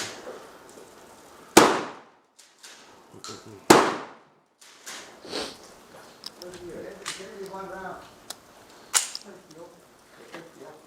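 Gunshots at an outdoor shooting range, two sharp loud reports a couple of seconds apart and then a fainter, more distant shot, with people talking between them.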